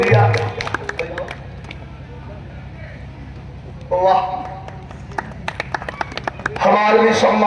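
Brief bursts of audience clapping at a live Biraha show, rising near the middle and again at the end under someone speaking into a microphone.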